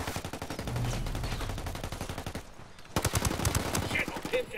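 Rapid machine-gun fire rattles in sustained bursts during a firefight in Ghost Recon Wildlands, with a brief pause before another dense volley, loud and close.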